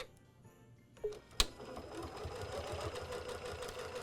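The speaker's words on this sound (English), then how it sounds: "But I'm just going to do a straight stitch." A sewing machine runs a straight stitch along both edges of a ribbon on a fabric gift bow: a couple of sharp clicks, then a steady, close whirring run with no pause.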